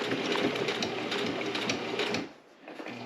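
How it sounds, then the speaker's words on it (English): Close, steady whirring hum of a sewing machine back-stitching in reverse while stitching a three-piece Bible cover, running nonstop for about two seconds before stopping abruptly. "I'm hitting the reverse button, and we're gonna back up the stitching, and that's gonna lock in our stitching."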